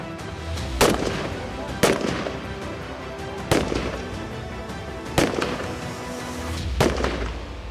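Gunfire at an Indian Army firing range with the Jammu & Kashmir Light Infantry: five sharp, evenly spaced shots ring out at a distance over steady outdoor rumble.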